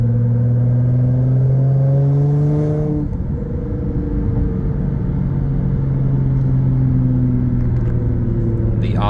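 A Nissan GT-R Black Edition's engine drones steadily from inside the cabin while driving, a loud, low rumble whose pitch rises with acceleration, dips briefly at a gear change, then climbs again.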